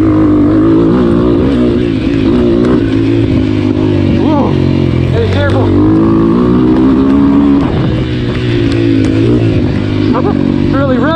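A GPX FSE 250 E dirt bike accelerates in third gear from a slow roll, its engine loud and close, droning and rising in pitch throughout with wind noise and a voice speaking under it.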